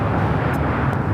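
A jet airliner on flight 216 to Dubai being pushed back at Los Angeles airport, a steady broadband engine rumble at a distance with no break.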